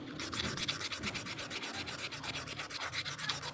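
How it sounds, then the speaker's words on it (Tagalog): Sandpaper rubbing back and forth over a stand fan part in steady, rapid strokes. The scraping is close and continuous, with a regular rhythm and no voices. "Lilihain lang natin mamaya sa liha na medyo manipis"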